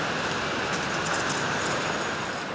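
A Bangkok MRT subway train runs with a steady, dense rumble and faint rail clatter, a continuous broadband roar heard from inside or close by, with no speech.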